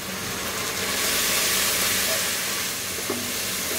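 Spices frying in hot oil for beef bhuna give a dense, steady hiss that swells slightly midway, close by and continuous with no talk, plus one brief clink near the end.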